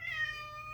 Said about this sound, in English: I know, that's my cat